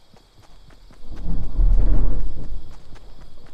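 Thunder from a nearby lightning strike in the video game Fortnite swells into a heavy, rumbling roar. It builds over about a second, peaks, then slowly fades.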